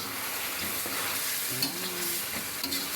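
Chicken curry with chili and bay leaf sautés in a pan, a steady close sizzle with occasional spoon stirs and small scrapes, no talking.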